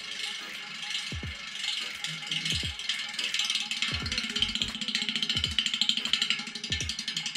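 A brand-new bicycle wheel's freewheel hub ticks in a rapid, steady ratcheting clatter as it spins, with a few low thumps along the way; fairly close and clear.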